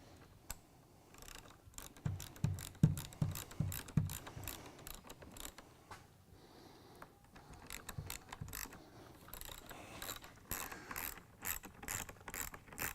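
Ratcheting clicks from a hand wrench driving a bolt through a spacer into a C5 Corvette seat clevis, steady repeated bursts of sharp mechanical clicking close by with brief pauses between strokes.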